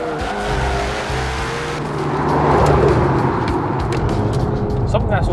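A McLaren 720S race car engine in the Super GT video game roars steadily throughout, rising in intensity midway, with a brief tire-squeal-like whine, while people talk over it.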